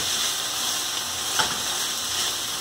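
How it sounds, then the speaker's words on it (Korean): Rice stir-fried with salted fermented seafood (jeotgal) gives a steady, close sizzle with a soft hissing texture and one brief louder crackle partway through. No one speaks. "그래서 젓갈로 볶습니다"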